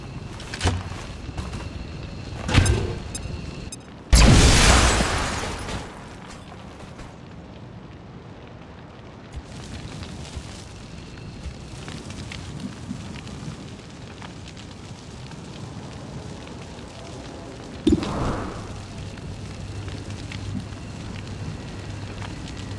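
A frag grenade explosion in the video game XCOM 2 bursts loudly with a rumbling roar that decays over a couple of seconds, among other scattered combat thuds and a later smaller blast.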